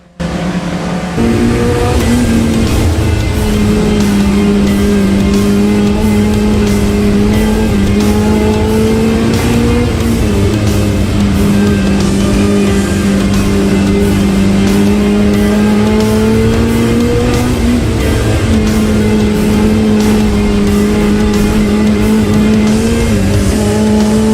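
Stock cars race around the Cowdenbeath Racewall oval, engines roaring loud and close from an in-car position, the pitch rising and falling as the driver accelerates and lifts through the bends, with occasional tyre squeal, continuous for over twenty seconds.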